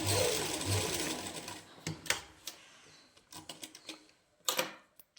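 A sewing machine stitches a lined salwar seam in short bursts: a continuous whirring run at first, then intermittent clattering needle strokes and pauses, close and clear without talk.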